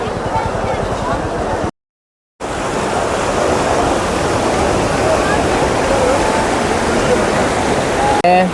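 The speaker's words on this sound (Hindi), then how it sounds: "जल का प्रवाह इतना तीव्र है" Fast, powerful Ganges river water rushing past the bathing ghats at Haridwar, a loud, steady broadband roar that is close and continuous, briefly cut out once and then carrying on unbroken.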